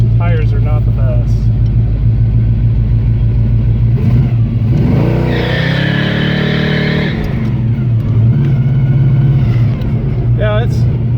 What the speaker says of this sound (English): Let's just see if we can do a little spin off.